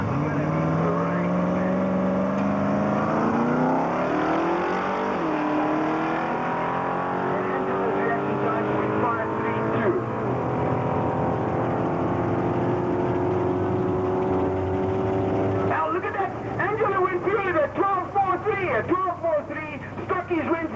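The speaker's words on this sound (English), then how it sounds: "Naturally aspirated V8. Small block Chevy V8 left-hand side. 2-liter turbocharged Ford right-hand side. Two women racing here." Two race cars, a naturally aspirated small-block Chevy V8 and a 2-liter turbocharged Ford, roar loudly at Tarlton with steady rising engine tones, then a rougher burst of revving and crackle toward the end.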